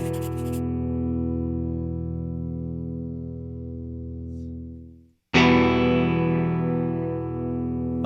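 Sustained electric guitar chords ringing through an amplifier, fading out, then a fresh strum rings out and sustains.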